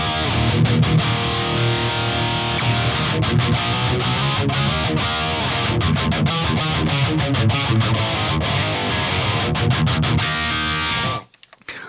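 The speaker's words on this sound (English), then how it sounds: "This substantially thins out the signal, giving that a little bit of that quacky feeling to it." Electric guitar played through a distorted amp tone with EQ thinning the signal into a nasal, quacky sound, a dense continuous riff that plays alone for about eleven seconds before cutting off abruptly.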